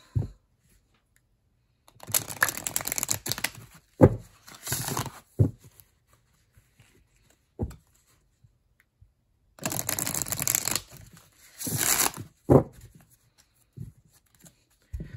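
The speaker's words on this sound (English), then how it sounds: "Let me just do a couple more shuffles." Crisp papery riffling of an oracle card deck being shuffled in two longer bursts, with softer taps and slides of cards in between, close up and quiet otherwise.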